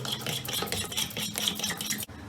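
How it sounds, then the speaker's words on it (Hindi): Spices being stirred into a yogurt marinade for dum chicken, a utensil scraping and squelching through the thick mixture in a bowl, with steady continuous mixing and a brief pause near the end. "इन तमाम मसाले जात को अच्छा सा मिक्स कर लेना है"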